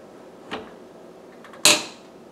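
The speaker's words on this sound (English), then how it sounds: "did you just hear the door clasp open?" A dishwasher's detergent dispenser door clasp flips open inside the machine as the main door is eased open, giving a soft click followed about a second later by a sharper, louder snap that rings briefly, with no talk.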